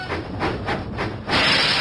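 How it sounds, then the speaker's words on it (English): A cartoon steam engine chuffs along the track in a Thomas and Friends video game, sending loud rhythmic puffs of steam followed by a steady hiss, with no voices. "Huffing and puffing, Thomas set out for Farmer Trotter's farm."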